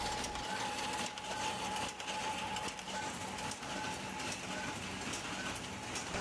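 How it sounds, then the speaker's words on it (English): A high-speed intelligent mail inserter in a print and mail shop pulls sheets, folds them and stuffs them into number 10 envelopes, a steady dense mechanical clatter with rapid rhythmic clicks and a continuous whine, loud and alone. "it's pulling in a set amount of sheets, it's folding them, it's grabbing another envelope, it's all stuffing it into a number 10 envelope"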